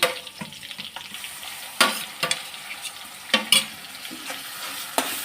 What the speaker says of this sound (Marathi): ती छान परतून घ्यायची कांद्याची पेस्ट